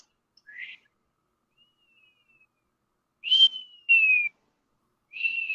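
A person whistles in short, breathy bursts separated by silence, imitating a deep, low whistling, each note gliding slightly downward. The sound is close and fairly quiet.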